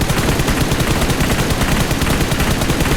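Nonstop automatic gunfire in PUBG Mobile, rounds aimed at a vehicle tire, comes as a dense, loud, close burst of rapid shots with no pause.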